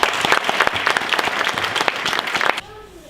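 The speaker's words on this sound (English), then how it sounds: "please can you give Rosie a round of applause." Audience applause at a Facial Palsy UK special recognition awards ceremony, a dense, steady clatter of many hands that carries on loudly for most of the stretch, then stops abruptly near the end.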